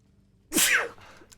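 A video game character lets out a single short, sharp sneeze, close and clear against a quiet background, with a faint trailing breath afterward.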